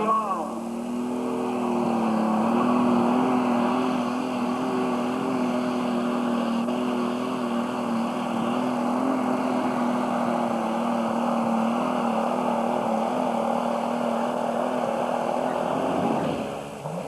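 Alcohol-fired super stock pulling tractor with a spark-ignition engine, NTPA Grand National event in Macon, Missouri, 1989, roaring steadily at full load through a long pull, loud and sustained under a crowd and announcer's voice.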